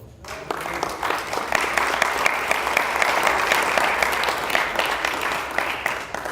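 A church congregation claps for the Lord during a Spanish-language Bible study service: dense, steady applause swells in within the first half-second and holds at full strength throughout, fading slightly at the end.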